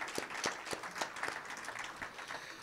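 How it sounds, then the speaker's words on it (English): A small audience at a celebration of the Cuban Revolution's 60th anniversary gives light, scattered applause, with a few distinct claps standing out over a faint, thin patter. "That deserves an applause."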